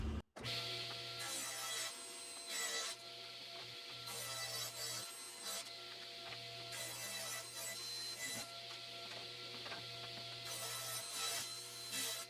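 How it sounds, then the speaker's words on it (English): Rhythmic sawing and rasping on 2-inch wooden seat slats for a garden bench, repeated bursts of cutting noise with short gaps between strokes, close and moderately loud. "Now it's time to cut the 2-inch seat slats"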